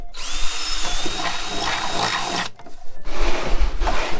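A power drill boring into a wooden crate: a close, loud whining drill run that stops briefly twice, with short pauses near the end before the motor picks up again, and no talk.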